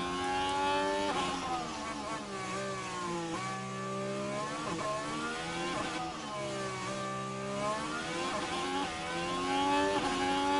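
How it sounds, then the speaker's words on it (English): Ferrari Formula 1 car on board in F1 Manager 23 at Monaco: a high-pitched engine screaming through upshifts and downshifts, rising and falling revs in a steady rhythm, close and continuous. "Let's ride on board with the Ferrari."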